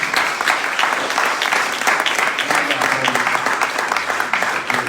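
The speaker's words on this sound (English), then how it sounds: "Let's give him a warm up applause." A crowd breaks into loud, sustained applause, a thick continuous roar of clapping with some voices murmuring underneath.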